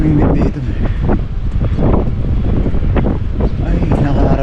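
Steady wind buffets the microphone in gusty rumbling bursts, with faint water and voices underneath.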